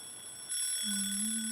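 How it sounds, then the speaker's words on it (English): An alarm clock rings in an anime short film, a steady high electronic tone joined partway through by a sustained low buzzing pitch, loud and continuous with no talking. "Oh, there's an alarm clock."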